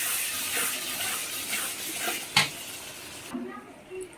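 Fish masala of onion, tomato, chilli and turmeric is stirred in a frying pan, soft sizzling under scraping stirs and a few clinks of utensil against the pan, fairly quiet and close.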